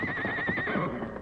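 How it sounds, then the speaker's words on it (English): A brown and white horse tethered near a lodge gives a loud, close whinny lasting about a second, wavering in pitch, with no talk over it. "a splendid brown and white horse tethered"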